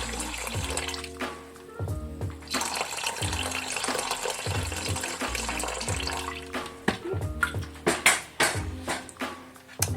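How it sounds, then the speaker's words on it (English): Water is poured into an Instant Pot inner pot over rinsed rice, a steady splashing fill with clinks and knocks from the pot, fairly close and moderately loud with no talking. "So I'm going to pour enough water to reach 3 cups."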